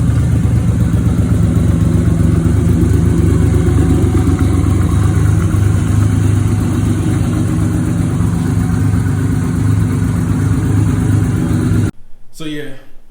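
A motorcycle engine idles loud and close, a steady rough throbbing pulse held for about twelve seconds before it cuts off abruptly into a brief different noise.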